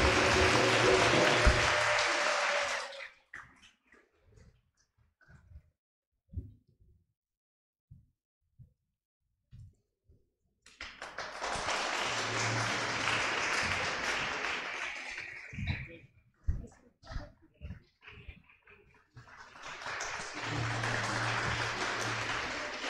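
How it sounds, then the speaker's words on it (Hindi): Loud bursts of audience clapping at a Youth Sunday cultural evening, coming in three separate waves of several seconds each, with quieter gaps of scattered sounds between them. "जोरदार तालियां दोनों के लिए।"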